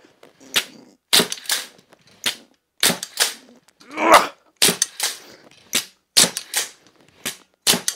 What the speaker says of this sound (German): versuche jetzt einfach mal diese 70 Pfund auf 25 Zoll Auszug relativ schnell zu schießen